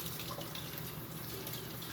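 Tap water running into a sink to rinse melon seeds, a continuous hissing splash at moderate level with no voices.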